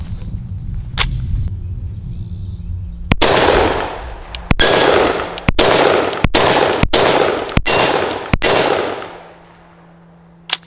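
A suppressed Rattler rifle fires about eight sharp, loud shots at irregular intervals, each crack followed by a metallic ring, with a quieter stretch before and after the string.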